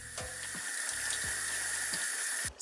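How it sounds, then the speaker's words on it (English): Tap water runs steadily into a sink over drained canned beans for rinsing, a constant close hiss with a few dull knocks and clatters of the can or colander. "Take our beans, open them up, and then drain and rinse them."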